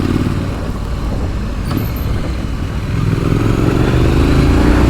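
A 2023 Triumph Scrambler 900 motorcycle engine roars steadily and loudly up close, a continuous raucous drone with a slight rise in pitch toward the end as the bike accelerates.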